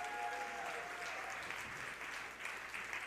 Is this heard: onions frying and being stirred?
no